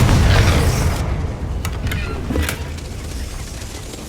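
Explosive Confringo spell blast in Hogwarts Legacy, a loud booming burst at the start that rolls off into a rumbling decay, followed by a few sharp crackling impacts.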